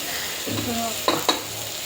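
Tomatoes with garam masala fry in a pan for a fenugreek rice dish, a steady close sizzle broken by a few short spoon scrapes and two sharp clinks against the pan.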